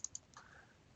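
A computer mouse clicks on a table header in financial software, giving two quick, faint clicks close together, followed by a soft brief rustle in a quiet room.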